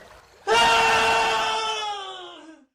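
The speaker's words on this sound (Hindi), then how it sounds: "किसी चीख की आवाज़।" A sudden, loud, sustained human scream breaks out of near silence, rising sharply and holding for about two seconds before trailing off, set in a forest in a children's folk tale.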